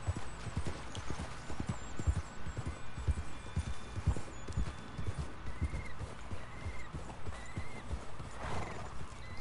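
Horse hooves clip-clop steadily in Red Dead Redemption, with repeated whinnies and neighs rising over the galloping rhythm, fairly close and clear throughout.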